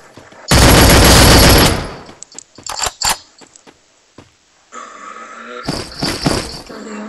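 Gunfire in the Free Fire shooting video game: a loud sustained automatic burst, followed by scattered single shots and short clusters of rapid fire, close and punchy.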